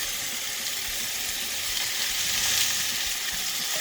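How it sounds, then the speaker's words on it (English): Potatoes sizzle steadily in hot mustard oil, a dense continuous frying hiss that stays loud and close throughout, with no voices over it. "And at this point, I'm adding the potatoes. I'm going to add a little bit more mustard oil."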